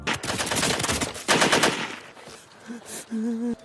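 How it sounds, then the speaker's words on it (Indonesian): Machine gun fire from a film tears through in rapid, dense bursts for the first two seconds, then breaks into scattered shots as the firing dies away, with a faint tone lingering at the end. "Suara ricuh membuat pasukan panik dan menembak secara membabi buta"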